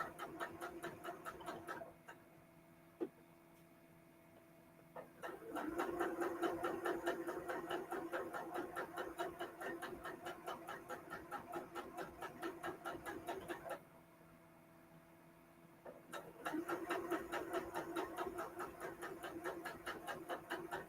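A sewing machine runs in long, rapid stitching bursts with a fast mechanical rattle, pausing briefly between runs; quiet and close, with no talking.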